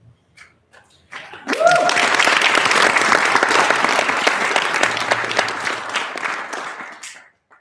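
A large crowd bursts into loud, sustained applause that swells quickly, holds for several seconds, then tapers off.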